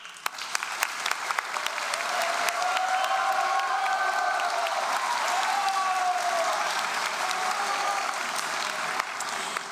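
A large audience applauding at a university convocation ceremony. The clapping builds quickly into a dense, sustained ovation that fills the hall, with faint cheering woven through it.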